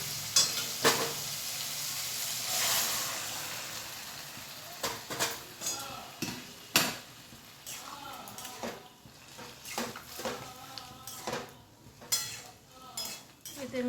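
Spice masala releasing its oil fries in a pan as the gas flame is turned up high for a turmeric-free potato vegetable curry, with a hissing sizzle and repeated close clinks and scrapes of a stirring spoon against the pot.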